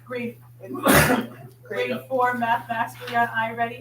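One sharp, breathy sneeze bursts out during a school board meeting, heard briefly amid ongoing speech from a person at the microphone.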